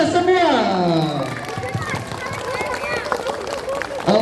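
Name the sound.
applause from school assembly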